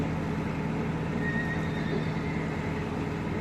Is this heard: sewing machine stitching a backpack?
no